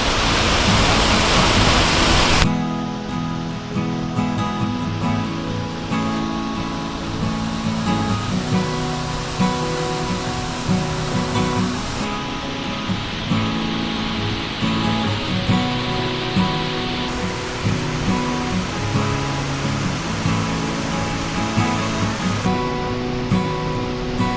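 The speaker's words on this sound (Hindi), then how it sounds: "ये है आपका पहला व्यू वाटरफॉल का।" Lapas waterfall in Barot Valley roars with steady, loud rushing water, a dense continuous wash of sound from start to finish with no voices over it.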